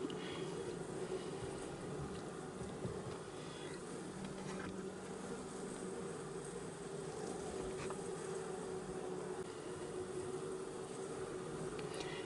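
A honeybee colony inside a hive, thousands of bees vibrating their bodies to warm the comb, making a dense, continuous droning hum that stays even and close throughout with no voices.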